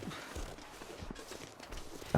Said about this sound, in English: Oh, some heavy footsteps there.